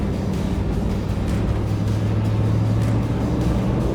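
A 1958 Chevy Impala convertible with a 348 V8 cruises along a country road, its engine a steady deep drone under wind and road rush, loud and continuous with no talk.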